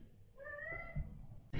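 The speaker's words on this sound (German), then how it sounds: "Oh, meine Katze." A single drawn-out cat meow sounds nearby, a clear rising and falling call over a low background hum, followed by a brief bump.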